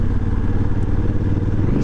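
Honda Africa Twin motorcycle engine running while riding, a loud, steady low rumble with a throbbing mechanical texture and constant wind noise, close and continuous, with no talk.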